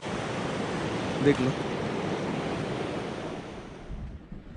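A mountain river near Lachen in North Sikkim rushes steadily beside a broken hanging bridge, a loud broadband roar with wind buffeting the microphone, and a voice speaks briefly over it.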